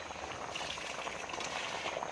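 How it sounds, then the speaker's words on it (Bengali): Mango leather chutney boils in a pan on a home kitchen stove, a steady close bubbling with dense small pops and blips throughout, moderately quiet and alone. "টকবক করে ফুটছে"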